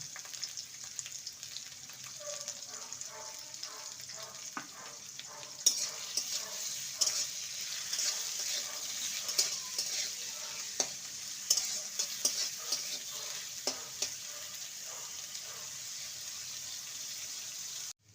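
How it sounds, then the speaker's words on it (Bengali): Chopped carrot with salt fries in a pan, a steady sizzle broken by repeated scraping and clinking strokes of a spatula stirring the pieces. "গাজরটাকে ভেজে নিয়েছি"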